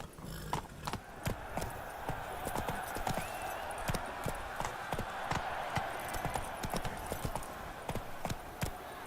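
Roach the horse gallops in The Witcher 3: Blood and Wine, and its hooves strike in a fast, steady clip-clop rhythm throughout, moderately loud over a faint background hum.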